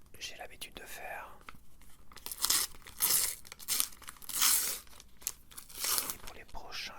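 Sticker packets from a Panini space-themed collection being unwrapped, with bursts of crinkling and tearing plastic in several loud, bright rustles close to the microphone, over soft whispered talk.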